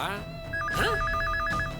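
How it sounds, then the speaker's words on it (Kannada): A telephone rings in a TV drama scene, a repeated electronic trill pulsing in quick bursts over a steady background tone, with a voice briefly heard near the start. "ಜಯರಾಜ ಫೋನ್ ನೋಡು."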